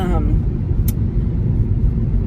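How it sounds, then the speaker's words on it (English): A big fire truck rumbles past close by, its heavy engine and road noise steady and loud throughout, with a brief higher hiss partway through. "Oh, here comes a big old fire truck."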